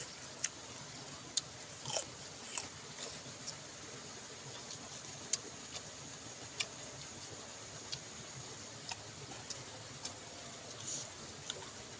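Someone bites and chews crunchy cucumber freshly picked from the plant, eaten as rujak outdoors; sharp crisp bites recur irregularly over a faint steady background hiss, with no talking.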